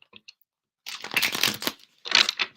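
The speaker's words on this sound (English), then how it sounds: "Let me shuffle this up." Tarot cards being shuffled by hand during a live reading, a few faint flicks followed by two bursts of riffling and crinkling card noise, close and alone.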